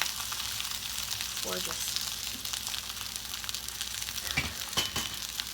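Organic black bean burgers fry in a pan with a steady, loud sizzle throughout, broken by a few spatula scrapes, while a voice speaks briefly over it.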